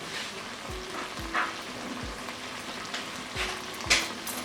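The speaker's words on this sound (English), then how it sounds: "now add in my chopped onions" Finely chopped onions fry in a pan for mutton kheema, giving a close, continuous sizzle with light crackles. Several soft low thumps of a spoon stirring sit under it, and nobody talks.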